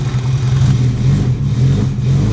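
A turbocharged Honda Civic engine idling low, a steady close rumble with a constant hum and no talking.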